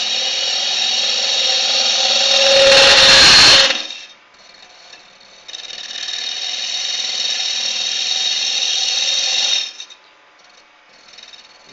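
Woodturning lathe cutting a mortar and pestle with a straight hook tool taken too deep, giving a harsh, high-pitched chattering whine with a brief louder burst, a pause, then a long steady stretch of chatter.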